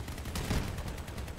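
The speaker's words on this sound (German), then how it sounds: "Oh, genau zwischen die Beine geschossen." Gunfire in the Crossout vehicle combat game, a dense, steady wash of shots and impacts with a heavier burst midway, fairly quiet and continuous throughout.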